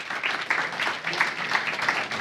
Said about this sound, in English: can we get a big round of applause for Tas Dimos, ladies and gentlemen?